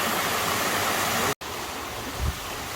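Rushing stream and small waterfall in a dense jungle valley, a steady broadband roar of flowing water that holds constant throughout, briefly cut by a short dropout near the middle.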